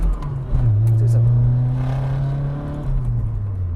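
A 1990 Nissan 240SX with about 140 horsepower accelerates, heard from inside the cabin: a steady droning engine note that climbs in pitch as it pulls, with road and wind noise underneath and no talk.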